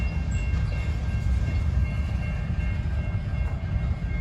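Two old CSX Geep diesel locomotives switching railcars at a rail interchange in Decatur, Alabama, giving a steady, fairly loud low engine rumble and rolling rail noise throughout with no clear horn blasts.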